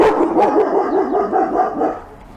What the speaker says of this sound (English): You can tell which is which by the bark. That's the big one.